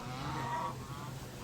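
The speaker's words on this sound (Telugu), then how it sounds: "బాతులు అవి" Ducks or geese calling at Hyderabad zoo, a fairly close, continuous honking chorus over steady low background hum, with no talk.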